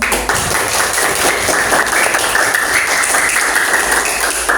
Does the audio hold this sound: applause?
yes